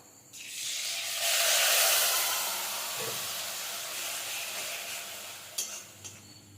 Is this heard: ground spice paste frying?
yes